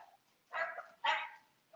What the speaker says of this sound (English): Shut up, puppies.